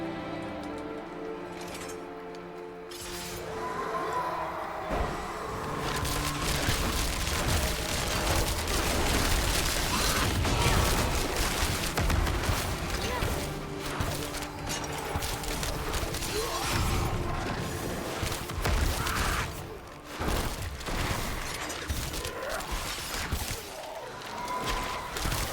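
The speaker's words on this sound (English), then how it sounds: "What's that explosion?" Explosions and blasts in the Diablo 4 video game, Vessel of Hatred expansion, with an ice sorceress fighting; dense, continuous bursts of booms, crashes and shattering build quickly and keep pounding loudly for the whole stretch.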